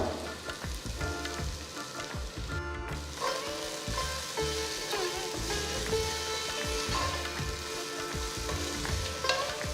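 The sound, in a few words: stirring coriander and mint frying in a pan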